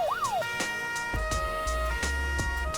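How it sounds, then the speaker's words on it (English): A police siren whoops briefly, followed by electronic tones and a series of sharp thumping hits, fairly loud with no voices. "that's a police siren"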